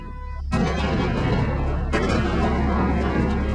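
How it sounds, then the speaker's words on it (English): Ten sticks of explosive blow apart a van at a twenty-foot standoff, a violent blast that bursts in after a brief hush, then sustains a dense, loud roar with a second heavy impact partway through, no voices present. "The explosion was violent."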